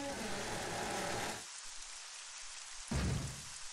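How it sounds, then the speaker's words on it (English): Steady rain falling in the video game Resident Evil: Code Veronica, a loud hissing downpour that drops to a quieter patter midway, then swells again with a heavy surge near the end; no talking. "Enjoying the rain?"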